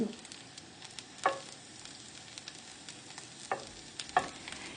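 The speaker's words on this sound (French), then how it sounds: "Macérés dans du vinaigre puis passés au four, ils sont prêts à être saisis à la poêle." Vinegar-marinated, oven-baked edible insects sear in a frying pan with a continuous crackling sizzle, punctuated by a few sharper pops and stirring clicks, close and moderately loud with no voices.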